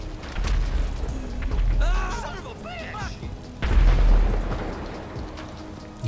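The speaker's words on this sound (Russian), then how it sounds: "Хрена себе там взрыв." Booming grenade-launcher explosions in GTA 5 during a zombie fight, two heavy low blasts separated by a few seconds, with an excited voice talking between them.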